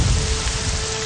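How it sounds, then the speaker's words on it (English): Rain in Balmora town square in the video game Morrowind: a steady, dense hiss of rainfall with a low rumbling undertone, constant and fairly loud for about a second. "we're right here in the town square of Balmora. Nice and raining like it always is."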